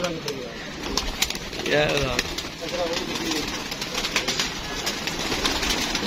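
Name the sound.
pigeon cooing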